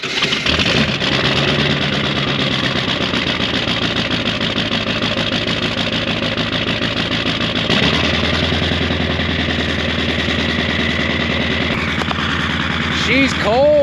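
A camper van's engine runs in cold weather: a loud, steady rumble with a brief cranking start, then it settles into a lower, rougher idle partway through and keeps running.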